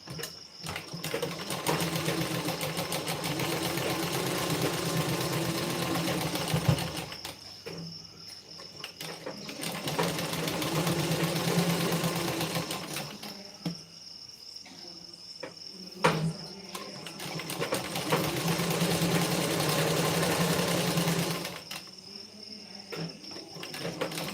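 A sewing machine stitches folded blouse fabric in long bursts of rapid, steady whirring, each run lasting several seconds before a brief pause, close and prominent with no talk.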